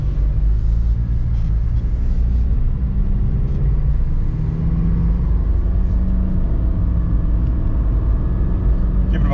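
A Jeep Liberty CRD diesel rolls along toward the highway, a steady low engine drone and road rumble heard from inside the cabin, continuous and fairly loud without anyone speaking.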